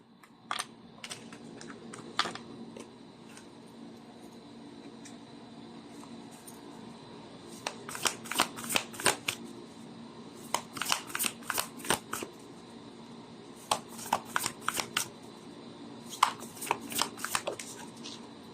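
Tarot cards being shuffled by hand make quiet, crisp riffling bursts that come in irregular clusters of rapid snaps, with short pauses between them.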